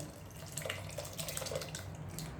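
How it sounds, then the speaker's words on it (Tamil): Mashed cooked lentils are poured into a cooker of radish sambar, giving a soft, quiet liquid pour with light splashing and dripping throughout the short moment. "நான் கடைஞ்சி வச்சுருக்கேன், அதை ஊற்றிக்கலாங்க."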